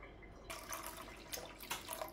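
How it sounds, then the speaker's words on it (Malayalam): Water poured into lemon juice in a pan for homemade lemon squash, a steady close splashing trickle that starts abruptly and runs continuously with small bubbling surges. "ഇനി നമുക്കിതിലേക്ക് വെള്ളം ഒഴിച്ചു കൊടുക്കണം"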